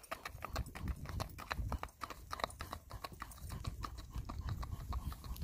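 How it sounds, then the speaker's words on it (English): A ridden black-and-white tobiano gelding's hooves clip-clop in a steady walking rhythm on hard ground, quiet and somewhat distant, with faint background noise. "he is being ridden alone for the first time in his life here at our farm"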